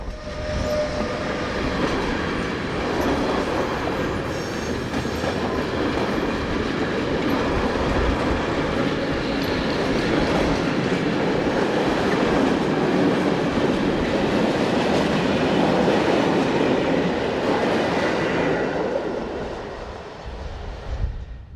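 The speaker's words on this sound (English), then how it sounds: "number 1116262 restarts its train and leaves the loops" Locomotive 1116262, a Taurus electric, pulls its train away from the passing loops on a September afternoon. A loud, sustained rumble and the rolling clatter of wagons build steadily, then fade slightly near the end.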